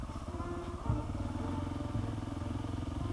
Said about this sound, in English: I'm ruining everyone's day with my noisy bike.